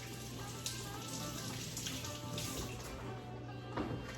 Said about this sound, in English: Just rinsing the seeds out.